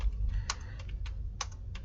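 Keystrokes on a computer keyboard, a few sharp distinct clicks spaced irregularly over a low steady background hum, close and fairly quiet.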